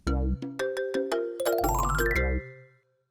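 A quiz correct-answer chime plays as a bright, loud jingle of several quick ascending tones, ending in a sustained chord that fades out.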